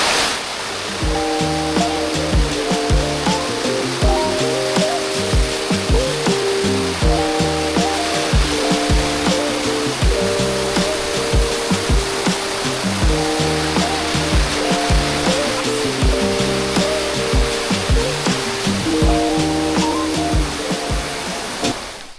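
A waterfall roars as a constant, full hiss of rushing water, with a rhythmic music track playing over it throughout.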